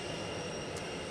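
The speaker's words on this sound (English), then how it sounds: "this is Air Force One flying over downtown Louisville" Air Force One, a large jet, flying over downtown Louisville on a clear day, heard as a steady, broad, loud roar of engine noise with no break, heard from a rooftop.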